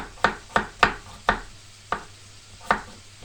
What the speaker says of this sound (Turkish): Bunları da ay gibi ay gibi doğruyorum canlarım